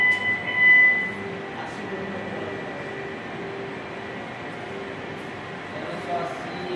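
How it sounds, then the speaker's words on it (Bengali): A thread machine runs in a workshop with a steady, continuous mechanical drone and hum, holding an even level throughout, with faint background voices. "এই যে আর একটা মেশিন চলছে, এটা আমরা এখন চালাচ্ছি"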